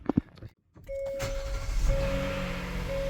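A 2020 Hyundai Palisade Limited engine fired up right after a spark plug change: a brief crank catching into a steady idle hum, with a chime ringing near and loud.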